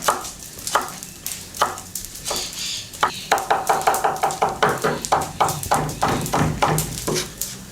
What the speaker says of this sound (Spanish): Mientras tanto vamos a picar el perejil, bien chiquito